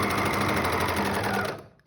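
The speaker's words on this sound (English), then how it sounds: "And then I'm just going to sew till the next pin." A sewing machine runs a fast continuous stitch while sewing elastic into a pants waistband, buzzing steadily close up before winding down and stopping near the end.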